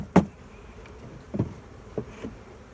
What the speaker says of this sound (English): Shake my bees in.